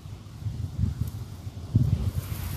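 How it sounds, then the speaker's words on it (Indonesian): Strong wind over Bukit Tenjo Ayu in Cicurug buffets a flying SJRC F11S 4K Pro drone, heard as a low, rumbling gusty roar that surges in uneven bursts. "Anginnya lumayan kencang."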